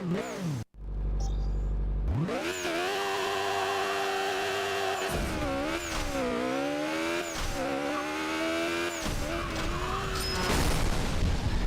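In the Burnout Legends racing game, a sudden explosive boom breaks in early, then a car engine takes over, revving loudly with rising and falling pitch, and tyres squeal, all under continuous game noise.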